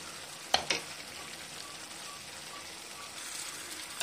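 Chicken pieces sizzle and fry in a spiced masala in a pan, a soft steady crackle with a couple of sharp clatters near the start as they are added and stirred.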